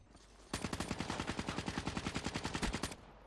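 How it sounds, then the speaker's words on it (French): Rapid automatic gunfire from the video game Black Ops 3, a loud sustained burst of closely spaced shots lasting about two and a half seconds after a brief quiet start, heard alone. "Oh, mais toutes les balles que j'ai tirées."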